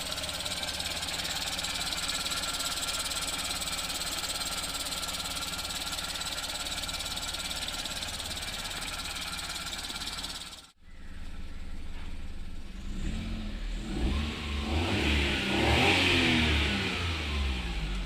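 A car that has sat unused for a week runs on a cold start with a loose fan belt, a steady close engine drone that cuts out abruptly, then catches again and revs up louder.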